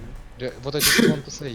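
A single sharp sneeze bursts out in the middle of casual chatter among people talking over a video game, with speech before and after it.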